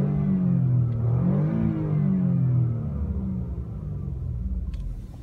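A 2016 Ford Focus 1.0L EcoBoost engine hums and rumbles from inside the cabin, rising briefly in pitch then settling to a steady low idle drone.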